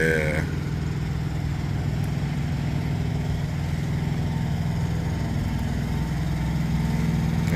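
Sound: Kenworth W900 truck engine noise

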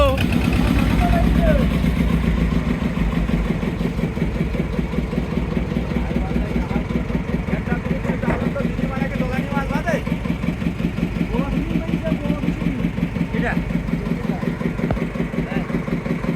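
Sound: fishing boat engine running in reverse gear

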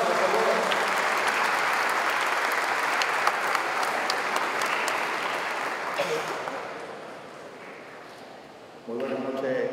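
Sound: audience applause

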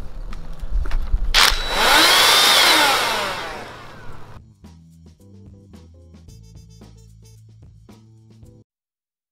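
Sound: rotary hammer drilling through rebar

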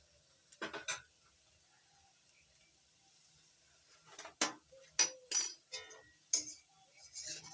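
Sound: stirring cauliflower chop mixture with spoon in pan

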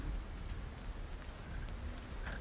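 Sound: heavy rain falling, storm effect

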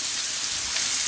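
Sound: onion and carrot sofrito frying slowly in a pan

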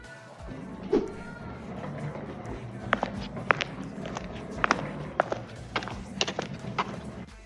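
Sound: suitcase rolling sound effect with footsteps down stairs

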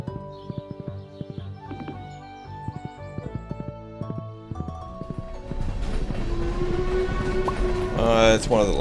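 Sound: train passing in video game Stardew Valley

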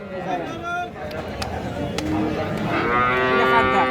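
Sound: cows mooing at a cattle market

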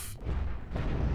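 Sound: cannon firing in video game Cosmoteer

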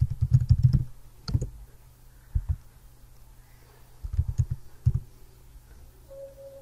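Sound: typing a query name on a computer keyboard

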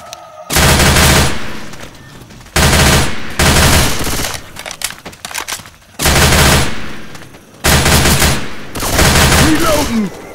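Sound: machine gun firing in video game Left 4 Dead 2

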